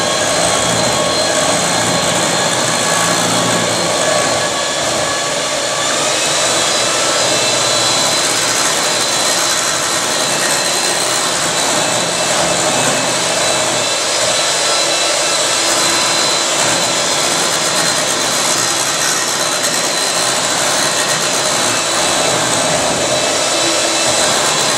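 An electric mixer whirs loudly and steadily as it blends a banana exfoliant with essential oils, a continuous close motor drone with little variation and no talking.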